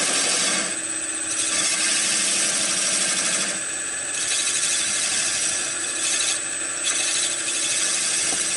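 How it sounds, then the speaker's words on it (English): An eccentric bat turning tool makes a scraping cut on wood spinning on a lathe, giving a steady, rasping hiss that surges and eases every few seconds, close by and with no talk. "pick one that's sharp, and do a scraping cut with it"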